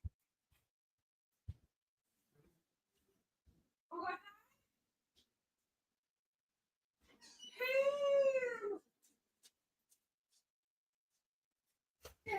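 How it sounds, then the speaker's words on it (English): A dog somewhere in the background of a home gives a brief whine, then a longer drawn-out wailing whine, distant and faint amid near silence and a few soft knocks. "You guys hear my dog in the background?"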